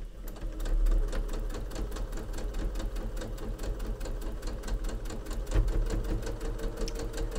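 A sewing machine stitches a quilted mat, its needle hammering in a fast, even rhythm close by, with a brief heavier clunk as it rides over a thick seam.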